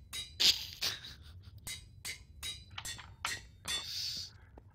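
Hammering in the Feed the Beast Infinity Minecraft modpack, a string of about ten sharp metallic strikes at uneven intervals, ringing bright and fairly close, with faint background between blows.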